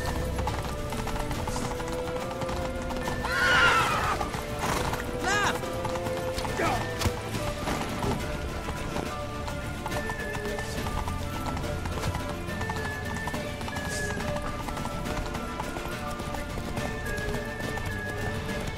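Horse hooves clip-clop at a gallop amid a busy soundscape in The Witcher 3 video game, with voices and other effects layered over the rhythmic pounding.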